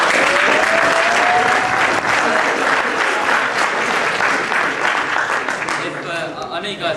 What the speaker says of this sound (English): I know you guys like clapping